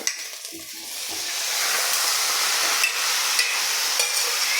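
Chicken dropped into hot spiced masala in a pan for a chicken curry with drumsticks, a couple of soft thuds followed by loud, steady sizzling and frying, close up, with no talking.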